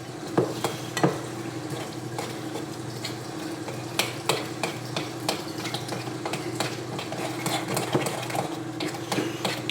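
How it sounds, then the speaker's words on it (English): A spoon stirs thickening food in a pan, giving steady scraping and soft clinking knocks over a low continuous sizzle; moderately quiet and close, with no talking. "So give them a good stir, because they definitely, as you stir them, thicken up"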